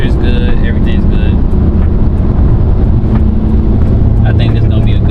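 An abandoned BMW 335i engine runs smoothly while driving, a loud steady drone with road and wind noise holding constant throughout.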